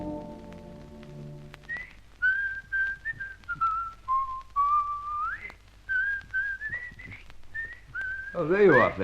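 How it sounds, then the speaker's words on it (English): A man whistles a theme song in a sequence of clear, close melodic notes with short pauses between phrases, preceded by a brief low musical tone and ending in a burst of other sound. "I was whistling your theme song"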